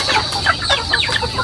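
Flock of farmyard chickens clucking busily together, a dense chatter of short overlapping clucks and squawks, close and continuous without a break.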